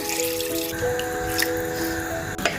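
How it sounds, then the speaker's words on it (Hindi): Water poured into a cooking pot of mutton paya with mashed onions, about two litres going in, a steady close trickle and drip with a faint tonal hum behind and no talking. "तो अब हम इसमें पानी ऐड कर रहे हैं, तकरीबन 2 लीटर के बराबर इसमें पानी जाएगा।"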